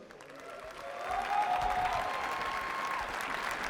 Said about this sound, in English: So big applause, please.